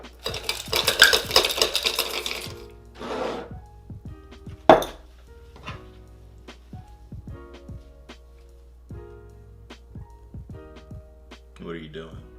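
Ice goes into a glass for an old fashioned cocktail: a burst of rattling clinks up front, then scattered sharp knocks and taps close by, with a brief voice in the background.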